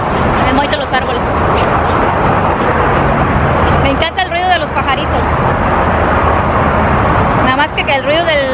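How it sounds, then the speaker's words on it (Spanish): A steady roar of nearby freeway traffic fills the background while someone talks over it and birds chirp now and then. "Nada más que el ruido del freeway que está aquí, está cerquita"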